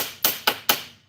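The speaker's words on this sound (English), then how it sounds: "You take your hammer and tighten those all down." A hammer strikes the fittings of an older snare drum stand three times, sharp metallic taps evenly spaced and close, each ringing briefly before fading.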